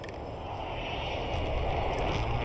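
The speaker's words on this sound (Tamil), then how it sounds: "Enemy advanced UAV overhead." An advanced UAV drone in the game Warzone drones steadily overhead, a continuous broadband aircraft-like hum that holds level and swells slightly near the end, with no talk.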